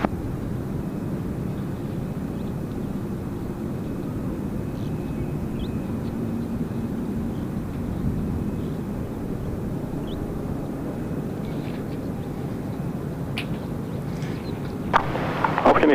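An aircraft lining up on the runway at Gold Coast Airport gives a low, steady engine rumble heard from a distance, continuous and even, with a few faint clicks and taps near the end.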